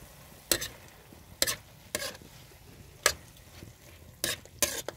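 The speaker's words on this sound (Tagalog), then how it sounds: "Haluin natin." Chicken dinuguan is stirred in a frying pan, with several distinct scraping strokes of a utensil against the pan, spaced irregularly over a soft, close sizzle and no talking.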